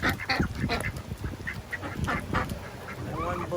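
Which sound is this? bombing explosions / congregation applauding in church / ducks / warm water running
ducks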